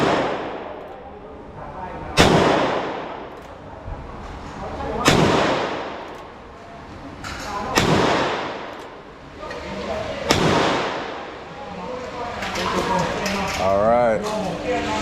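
Loud gunshots at a shooting range in Pattaya, Thailand, ring out one at a time about every two to three seconds, each with a sharp crack and reverberant tail, while people talk in the background.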